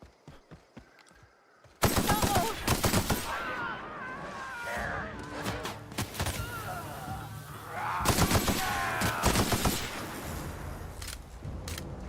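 Bursts of rapid gunfire in The Outer Worlds, fired from the hip, crackle loud and close in dense volleys, broken by a short lull and then another long salvo amid other in-game combat sounds.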